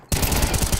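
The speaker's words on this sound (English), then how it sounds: "Good shooting from Aaron." Sustained automatic rifle fire during a Counter-Strike esports match, a dense rapid burst of shots starting abruptly and continuing loud and close for nearly a second with no talk over it.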